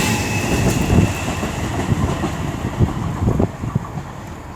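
Passenger train at Birmingham International station on the West Coast Main Line, the 1405 service from Birmingham New Street to Northampton, rumbling steadily and close by with rhythmic wheel clicks over rail joints, continuous and loud throughout.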